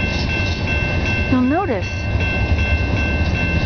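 A freight train carrying shipping containers rolls past with a steady rumble of rail cars, a short rising and falling whine midway, while someone talks over it.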